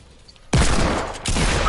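Video game gunfire from shotguns and a Desert Eagle pistol in a Fortnite-style match: a sudden loud blast opens a dense, sustained burst of shots that dips briefly and then surges again, with no talking over it.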